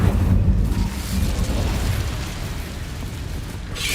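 Incendio fire spell cast in Hogwarts Legacy, a loud sustained fiery burst with a heavy low roar that rolls on for several seconds, no voices.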